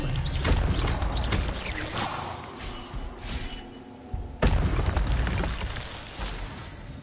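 A spell cast in the video game Hogwarts Legacy bursts out as a sudden loud whoosh and thud amid busy game effects and music, with a second sharp impact partway through.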